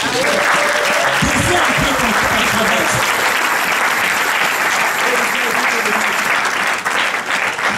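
A church congregation applauds and cheers during a worship service, loud sustained clapping that runs continuously throughout with crowd voices mixed in.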